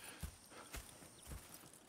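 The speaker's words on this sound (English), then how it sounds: "Go check the horses are ready" Horse hooves clip-clop at a slow walking pace in Red Dead Redemption 2, a few muffled thuds over a soft background hum.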